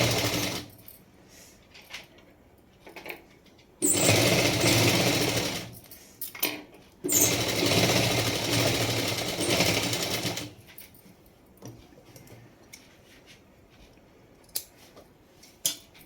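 A sewing machine stitches a double katori blouse in two loud continuous runs of several seconds each, separated by quieter pauses with faint handling clicks.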